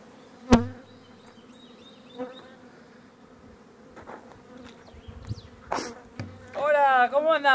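Honey bees buzz around beehives moved to carob blossom in the bush, with individual bees droning past the microphone in close, rising and falling passes over a quiet background, growing busier toward the end.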